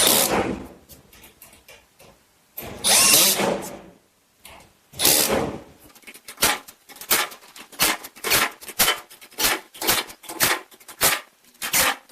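A power drill drives screws into the back of a Gladiator extra-large 48-inch GearBox garage cabinet: two long whirring bursts followed by a rapid run of short, evenly spaced pulses, close and fairly loud.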